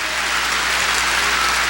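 A church congregation at a 1991 Christmas service bursts into sustained applause, a dense, even wash of many hands clapping with no voices rising above it.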